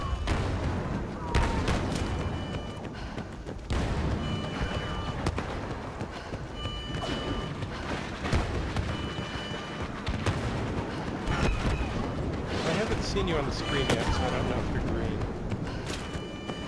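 The A280C blaster rifle fires in Star Wars Battlefront during a Walker Assault match on a wasteland map, dense repeated shots and booming battle noise running throughout, with players talking over it.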